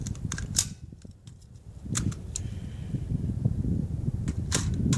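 Metallic clicks and clacks of a pistol magazine being swapped, a few sharp snaps spread through a steady background hum, close by with no talking.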